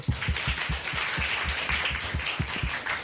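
Studio audience applause on a Korean panel talk show, a steady wash of many hands clapping at moderate level throughout, with no talk over it.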